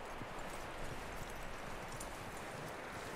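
Horse hooves clip-clop steadily in Red Dead Redemption 2, a quiet, continuous run of soft hoof beats against low background noise, with no speech.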